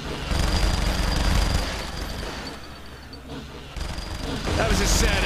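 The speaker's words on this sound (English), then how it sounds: "You're shooting at me." Gunfire erupts in the video game Saints Row The Third, dense rapid bursts of automatic shots mixed with game noise, loud and continuous with a brief lull midway, while a voice talks over it.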